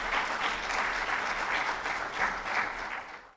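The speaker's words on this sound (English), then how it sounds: "Let's give him a warm round of applause." Steady, full applause from a seated audience at a dental professional session, many hands clapping in a dense wash that holds level before cutting off abruptly at the end.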